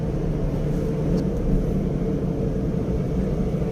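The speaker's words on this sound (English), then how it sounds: "Now I am driving in the 4th gear," Interior of a Maruti Suzuki A-Star hatchback cruising in fourth gear, a steady low engine and road rumble that holds an even level throughout.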